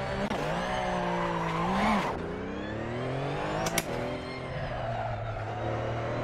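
A race car in a hill-climb racing video game, engine revving up and down in smooth sweeping pitch changes with a brief tire squeal, steady and close throughout.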